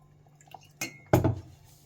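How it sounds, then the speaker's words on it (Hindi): A spoon clinks against a mug while milk and cream are mixed, with two short sharp knocks followed by faint stirring in a quiet kitchen. "इसको अभी स्पून के साथ करूँगा मैं, यूँ मिक्स, तो फिर ये दूध निकलेगा।"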